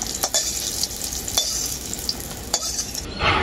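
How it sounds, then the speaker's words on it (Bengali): Flat beans frying in a covered pan give a steady close sizzle with occasional sharp crackles and pops, no voices. "কাঠসিমটাকে আমি ঢাকা দিয়ে খুব ভালো করে ভেজে নেব"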